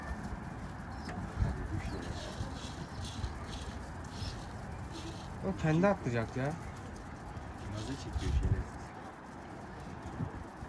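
Mardin pigeons at a coop give a short run of soft, close cooing partway through, over a busy outdoor background with people talking nearby.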